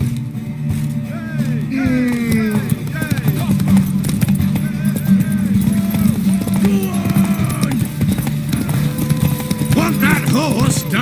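A galloping horse in the video game The Witcher 3, steady rhythmic clip-clop of hooves under a busy mix of game music and characters talking throughout.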